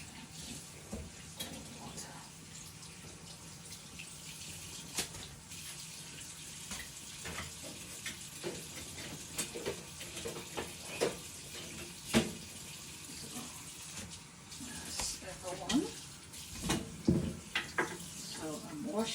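Tap water running steadily into a kitchen sink while a cutting board is washed, a continuous splashing wash with scattered clatters and knocks, and a voice talking over it at times.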